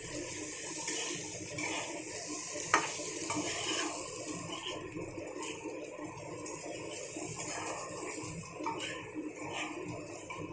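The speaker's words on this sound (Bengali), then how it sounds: "গ্যাসটাকে মিডিয়াম করে দিয়েছি, দিয়ে খুব সুন্দরভাবে ভেজে নেব।" Fish frying in oil in a wok over medium gas, a steady broadband sizzle with scraping spatula clicks and a sharp knock near the start, close and continuous with no talk.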